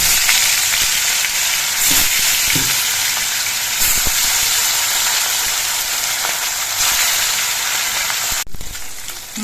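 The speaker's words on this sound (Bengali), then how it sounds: "তেলটা গরম হয়ে আছে এবার মাছগুলো ভেজে নিয়ে নিচ্ছি" Fish frying in hot oil in a wok, giving a loud, steady, close sizzle that runs throughout, with a few faint utensil clicks and no voices.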